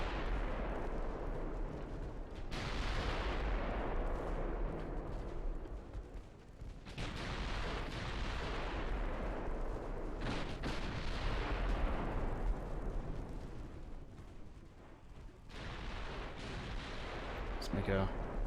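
Naval gunfire from warships in the Ultimate Admiral Dreadnoughts game, a 1930s French fleet action with tertiary batteries joining in, sounds as dense, continuous booming salvos that overlap throughout, loud and rumbling with repeated heavy blasts.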